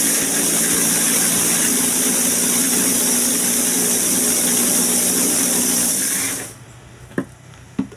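A food chopper grinds glutinous rice with a loud steady whirring buzz for about six seconds, then cuts off, leaving quiet with a couple of small knocks.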